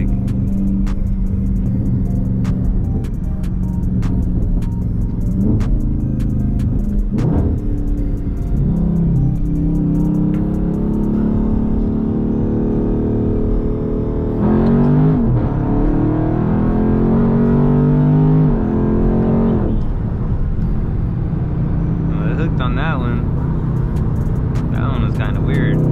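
A Dodge Charger 392 Scat Pack widebody accelerates hard from a 40 mph roll, its heavy engine rumble heard from inside, rising through the gears with shift breaks, under occasional talk.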